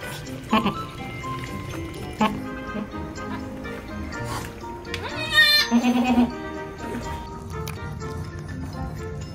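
A goat that has just given birth bleats, with a few scattered calls and one louder, wavering cry mid-way, heard near amid people talking and light background noise.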